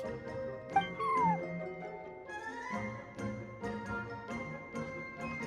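A small cat meows in Genshin Impact during a cat event, a few distinct plaintive meows over soft game background music and chimes, fairly close and clear with no talking.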